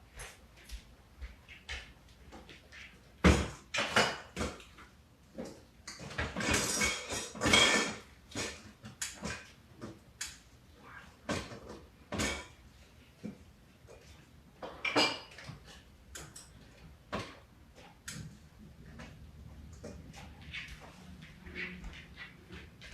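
Rummaging through kitchen cupboards for a bigger bowl while making ambrosia salad: irregular clattering of dishes and cutlery, knocks and scrapes in scattered bursts, some loud and close, with quiet gaps between.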